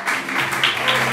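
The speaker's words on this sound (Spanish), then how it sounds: "por favor, un aplauso para Pedro González." Audience applauding at a live stand-up comedy show, a steady wash of clapping with a faint musical tone beneath it for about a second.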